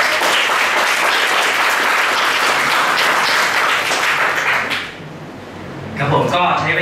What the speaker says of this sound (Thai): ขอเสียงปรบมือให้กับผู้แนะนำของผมก็คือคุณแม่นะครับ